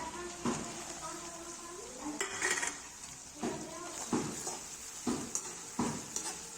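Onions are added to okra frying in a pan, with a steady low sizzle beneath repeated close clinks and scrapes from a stirring spoon against the metal pan, roughly once a second.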